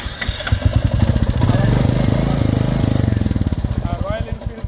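A Royal Enfield Classic 350cc motorcycle with 4,848 km on it runs close by, its single-cylinder engine thumping in a rapid, even pulse that rises and settles over several seconds, loud and near.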